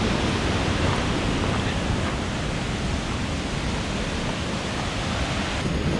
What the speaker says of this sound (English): But it does follow this creek, which is super nice.